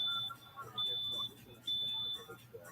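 A smoke alarm beeps in a repeating pattern of three long, piercing tones with short gaps between them, set against a low background hum during a demonstration of a stove that shuts itself off.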